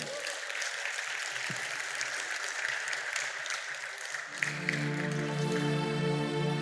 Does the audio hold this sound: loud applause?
yes